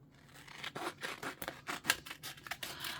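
Scissors cutting through packaging card, a quick series of close, crisp snips and slicing rasps in an uneven rhythm, with no talking.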